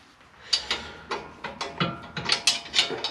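A ratchet wrench clicks in short repeated bursts while loosening 17 mm brake caliper bolts on a Subaru Liberty Spec B wagon, fairly close and irregularly spaced, with no talk.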